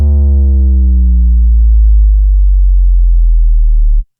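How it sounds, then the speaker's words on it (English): A loud synthesizer tone slides steadily downward in pitch, its bright upper harmonics fading until only a deep bass hum remains, then cuts off abruptly. "I started way up but modulated the cutoff so it becomes darker and darker"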